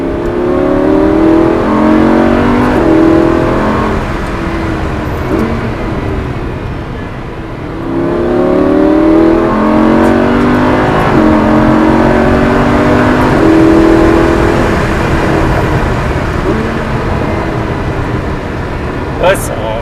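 A Lamborghini Huracán accelerating hard, its loud engine climbing through rising revs in repeated sweeps, dipping briefly mid-way before surging again, heard from inside the car while people talk over it.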